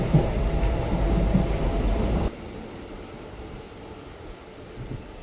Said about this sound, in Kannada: ಬೆಳಗಾವಿಯಿಂದ ಮೈಸೂರಿಗೆ ಬರುವ ಎಕ್ಸ್ಪ್ರೆಸ್ಸು